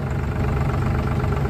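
A farm tractor engine idles nearby, a steady loud low rumble with an even throbbing texture throughout and no talk.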